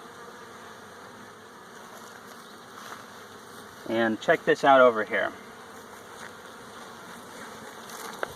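Honey bees hum steadily around a feeding can of syrup with floats, a constant close buzz that runs the whole time, with a person briefly talking partway through.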